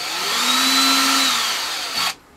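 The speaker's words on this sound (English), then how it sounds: "I'm just going to take the drill that I used to drill the top holes and just lightly spot" A power drill lightly spot-drills through a metal plate on a homemade leather embossing press, whirring loudly and steadily with a shifting pitch for about two seconds before stopping abruptly.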